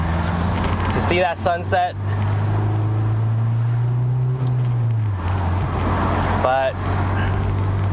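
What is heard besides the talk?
road traffic while stuck in a traffic jam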